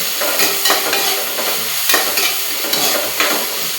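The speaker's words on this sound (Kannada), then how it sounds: "ಟೊಮೆಟೊ ಎಲ್ಲ ಚೆಂದಂಗೆ ಕರಿಬೇಕ್ರಿ" Tomatoes and onions fry in a pan as a masala base for capsicum gravy, with a steady close sizzle and a spatula scraping and stirring in repeated, roughly regular strokes, without any voices.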